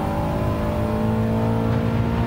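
Four-wheel-drive car's engine roars under hard acceleration on a track, loud and steady, with a droning note close by and no voices.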